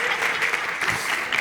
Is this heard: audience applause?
yes